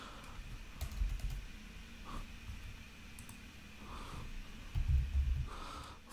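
Fingers type on a computer keyboard, quick light clicks in short bursts with pauses, close but quiet against faint background hiss and breathing.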